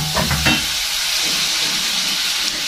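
Spaghetti frying in a hot pan while being stirred until brown, a steady loud sizzle and hiss with a few scraping stir sounds near the start, no talk.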